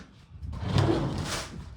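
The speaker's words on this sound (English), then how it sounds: "oh my goodness, squeaky door" A squeaky door swings open close by, a brief creaking scrape lasting about a second over quiet room tone.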